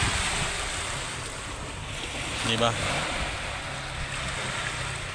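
Big waves breaking at a beach on a gray, unsettled day, a steady broadband wash of surf with wind rumbling against the microphone and a brief spoken word partway through.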